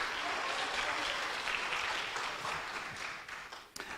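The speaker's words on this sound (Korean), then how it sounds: "다시 한번 박수로 격려하겠습니다." A church congregation applauds steadily during a Sunday service, dense even clapping that holds for several seconds and then thins out at the end.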